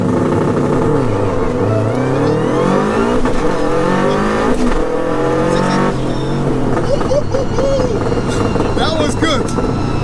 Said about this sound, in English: This was a savage launch and I think you'll be very impressed.